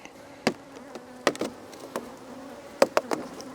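Honey bees buzzing around an open Langstroth nuc hive, a faint continuous hum broken by several sharp close taps and knocks from handling the wooden box.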